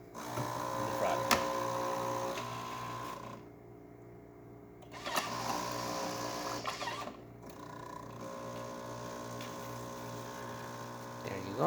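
A Jura ENA Micro 90 coffee machine pumps an espresso shot with a low, steady electric buzz that stops briefly twice and restarts. It is quiet and close, with faint voices.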